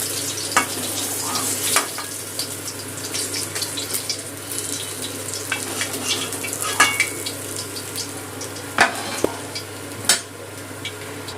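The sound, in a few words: katla fish frying in oil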